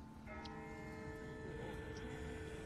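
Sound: distant bell ringing in The Walking Dead video game

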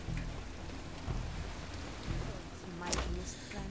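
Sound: rain in video game Marvel's Midnight Suns

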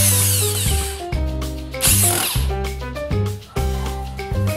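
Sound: power drill driving screws into wood

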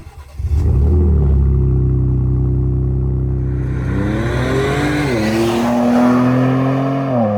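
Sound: Ford Raptor pickup engine and exhaust sound

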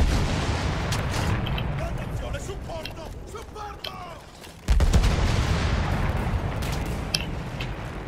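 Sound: gunfire in the video game Battlefield 1

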